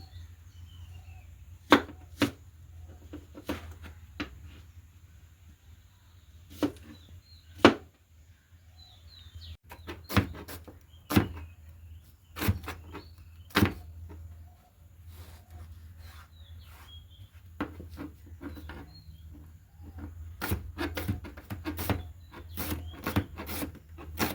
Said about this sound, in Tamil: இனி நாங்கள் வெங்காயம், பச்சை மிளகாய், உள்ளி எல்லாம் வெட்டி எடுக்க போகிறோம்.